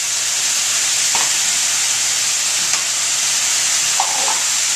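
Sausage pieces, onions and garlic fry in a pan with a steady, bright sizzle and hiss throughout, broken by a few faint clinks of stirring.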